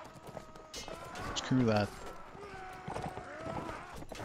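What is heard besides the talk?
horse hooves clip-clopping in Mount & Blade video game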